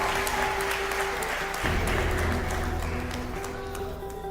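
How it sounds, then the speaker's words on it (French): An audience at a talent show final applauds steadily, a dense wash of clapping over a low background hum, loud and continuous throughout. "Ça s'applaudit s'il vous plaît"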